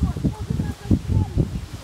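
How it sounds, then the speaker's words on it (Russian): Leaves rustling in strong wind outdoors in nature, a soft uneven swishing in short gusts, close to the microphone, with no talk over it. "Видите, листья все шуршат."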